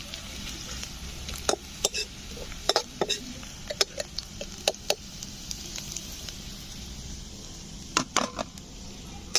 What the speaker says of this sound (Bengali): তো পেঁয়াজগুলো আমি প্লেটের মধ্যে তুলে নেব।